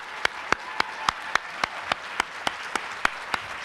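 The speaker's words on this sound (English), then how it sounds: "big round of applause?" An audience at an Ignite speaker event claps in single sharp claps about every quarter second, crisp and evenly paced over a soft background hush.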